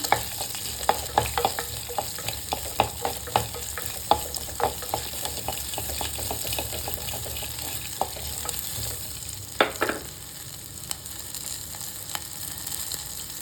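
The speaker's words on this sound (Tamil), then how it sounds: "சின்ன வெங்காயத்தை நல்லா வதக்கி விடுங்க" Shallots sizzle and fry in a pan while a spoon stirs them, with scraping clicks and a steady crackle close up for the Tamil mango koozh, and no one speaks.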